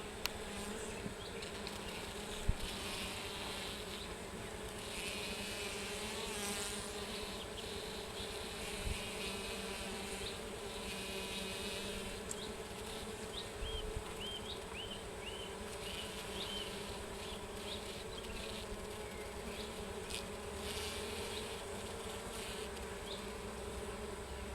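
Honeybees buzz steadily and densely across the comb as a new worker bee emerges from her cell, a continuous close hum with faint higher whines, no voices.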